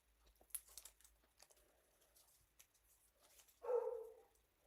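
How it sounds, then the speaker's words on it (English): A dog gives a single short bark near the end, after faint scattered rustling and crinkling noises in a quiet room. "He barked."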